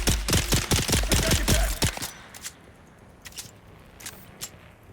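Pistol gunfire in a survival video game, a rapid volley of sharp shots up close for about two seconds, followed by a few scattered fainter shots and quiet.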